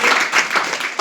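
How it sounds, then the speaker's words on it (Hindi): Loud, close applause from a crowd in a hall, dense clapping that swells and dips in waves before a fresh burst at the end. "इस हाल में जितने सर सब उपस्थित है सबके एक जोरदार ताली"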